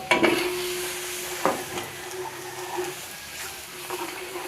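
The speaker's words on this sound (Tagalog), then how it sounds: "Tapos gisa na tayo ng bawang." Garlic sautés in a hot pan with a continuous close sizzle, punctuated by a few spatula scrapes and knocks against the pan.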